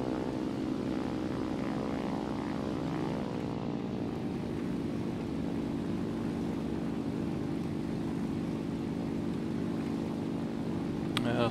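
A propeller aircraft engine in a War Thunder simulator battle drones steadily and evenly throughout, a constant loud hum with no breaks.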